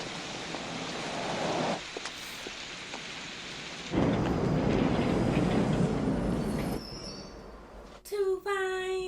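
A subway train rumbling loudly through a tunnel in a 1980s film scene, a sustained roar that builds midway, with a brief voice and a sharp tonal screech near the end.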